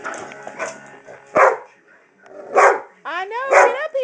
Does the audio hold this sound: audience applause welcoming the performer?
no